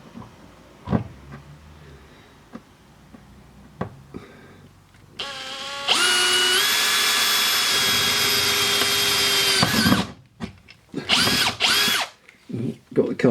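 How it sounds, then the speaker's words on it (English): A power drill bores into a welded bolt under a Mk5 Golf TDI, held awkwardly upside down: a few clunks and scrapes, then a loud steady whine for about four seconds, followed by short stuttering bursts as the bit bites. "I'm going to drill a hole."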